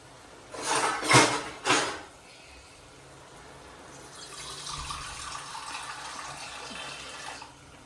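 Hot water runs steadily from a tap into a pot for a few seconds, preceded by a few sharp clattering knocks; no talking.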